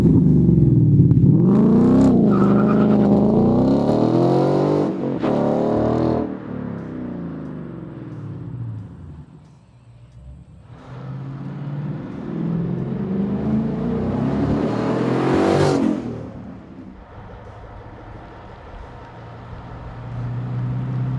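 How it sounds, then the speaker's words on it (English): A 2015-2017 Ford Mustang GT V8 fitted with a MagnaFlow Competition Series cat-back exhaust drives close by with a loud, deep rumble. It revs up, eases off, then builds again in a long second surge. "MagnaFlow's got a real deep tone so you really feel inside the car"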